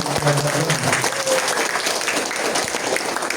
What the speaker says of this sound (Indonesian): Aplaus semuanya untuk